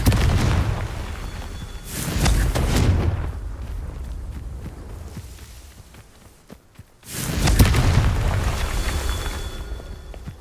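Confringo fire spell explosions in Hogwarts Legacy, several loud booming blasts with rumbling tails, two big bursts separated by a quieter stretch of crackling spell effects.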